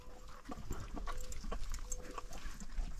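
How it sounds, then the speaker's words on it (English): Farm animals, goats among them, bleat and snort in short repeated calls at moderate distance in a desert setting, with scattered hoof-like clops and rustling throughout. "Don't worry about the goats."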